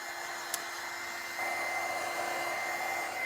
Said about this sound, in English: I'm trying to dry different parts of the project so it is going to dry evenly